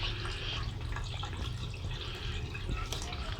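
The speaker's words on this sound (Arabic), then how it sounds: "مي جديد يدخل لهذا الحوض ويطلع منه المي مال تلقيح." Fresh water runs into a goldfish breeding tank at a fish farm during a water change, a steady soft splashing and trickling with faint drips, unbroken and close.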